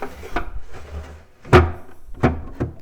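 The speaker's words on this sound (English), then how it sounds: "Drawer at the top, which doesn't want to open." A stiff wooden drawer in old pine furniture is tugged open, with a series of sharp knocks and scraping thumps as it sticks and then gives, close and fairly loud.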